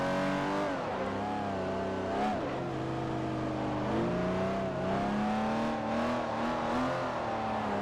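A race car engine in Forza Motorsport 4 revs continuously and loudly, its pitch climbing and dipping through gear changes as the car chases a rival on a Ferrari track day, with no voices over it.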